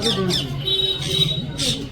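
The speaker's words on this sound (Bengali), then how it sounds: "দেখো টিয়া পাখি" Green parrots squawk in a tree at a temple fair, giving short shrill bursts, some close and some a little farther off, over a soft background murmur.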